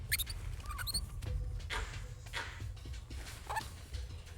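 A vervet monkey gives an alarm call warning of a leopard: sharp, high-pitched chirps in short bursts near the start and again later, over a low, steady outdoor rumble.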